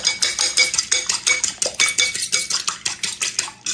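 Four large eggs being beaten in a bowl with a utensil, a quick, steady rhythm of loud tapping clinks against the bowl, repeating about four to five times a second with no talk.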